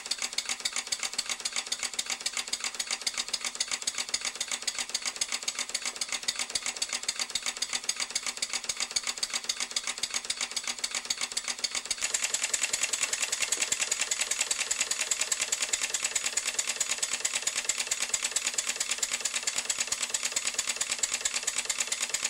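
A small model steam engine with a slide valve and piston runs slowly, giving a steady, rapid mechanical chuffing and clatter that stays even throughout and grows slightly brighter and louder about halfway through.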